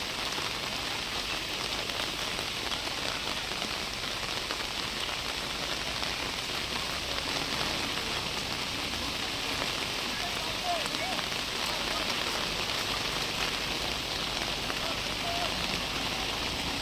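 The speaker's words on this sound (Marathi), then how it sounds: "पाऊस प्रचंड पडतोय इकडे" Heavy rain pours down steadily over an open fairground at a mud-ploughing race event in Pali, a dense, constant wash of drumming rain with no breaks and a few faint voices under it.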